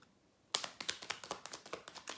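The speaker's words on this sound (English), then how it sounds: "Let me shuffle you again." Tarot cards being shuffled by hand: after a half-second of quiet, a rapid run of crisp riffling snaps and taps, close and fairly loud, in an uneven rhythm with no talk.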